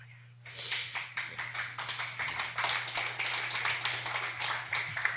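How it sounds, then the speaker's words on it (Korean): A lecture audience claps in steady, fairly close applause lasting several seconds, individual hand claps audible in a quick irregular rhythm over a low constant hum. "여러분들 내게 대해서 박수를 치는 거 보니까"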